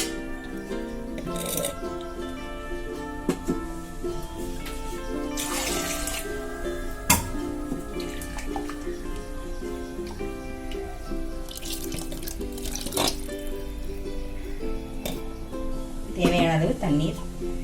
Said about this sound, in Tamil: குழம்பு வேகிறதுக்கு தேவையான அளவு தண்ணீர் சேர்க்கணும்.